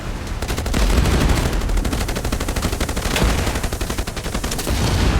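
Rapid bursts of gunfire from the pirate-world survival video game Age of Water, a loud, dense and continuous barrage of shots lasting the whole stretch with no pauses.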